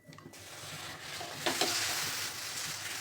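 Steady sizzling from a barnyard millet (varai) flatbread cooking on a hot griddle, with a brief louder hiss partway through as it settles onto the pan.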